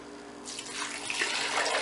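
Cold tap water runs into a container for crock-pot stew, a steady rushing pour that begins after a brief quiet moment and holds at an even level to the end.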